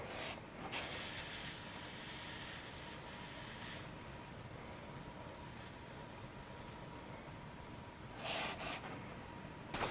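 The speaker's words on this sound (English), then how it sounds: "I think I've gone as far as I can go with the steaming" Steam hisses steadily onto the foam stabilizer of an RC glider during an elevator repair, a soft continuous rush that swells in a few louder bursts near the start and near the end.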